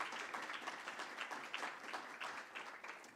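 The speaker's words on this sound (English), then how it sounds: "Let's give her a round of applause before she leaves" Audience applause fills a round-table discussion hall on whether governments of national unity work in Africa, a steady, soft wash of clapping that sounds somewhat distant and continues without letup.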